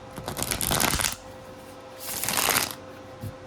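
Two quick bursts of shuffling a matte oracle card deck, close and crisp, a flurry of riffling slaps each lasting about a second, separated by a brief quiet pause.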